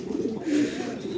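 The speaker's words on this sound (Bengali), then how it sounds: "আরেকটা চমৎকার কোয়ালিটি কবুতর, ফ্যান্সি কবুতর" A fancy pigeon coos once, a short soft throaty call near at hand, in a pigeon market stall, over a low background murmur.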